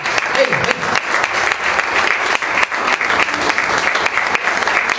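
A church congregation in Barrio Lindo, Almirante Brown, Buenos Aires, applauds loudly and continuously for several seconds, a dense wash of clapping with some voices mixed in.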